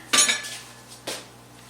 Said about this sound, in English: now we got to get this stirred in here